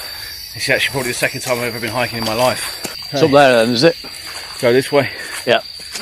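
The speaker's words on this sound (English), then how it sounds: "that is not birds you can hear. That is actually insects." Dense insect chorus in a Thai jungle, a steady high shrill drone running continuously under voices of hikers chatting as they walk.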